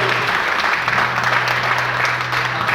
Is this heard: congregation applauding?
yes